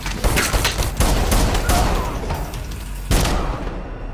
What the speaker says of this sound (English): John switches back to the Combat Master and fires 4 more shots before the scene ends